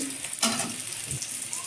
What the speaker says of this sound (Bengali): ট্যাংরা কালিয়াই দেবো বলে আলুটা ভেজে নিই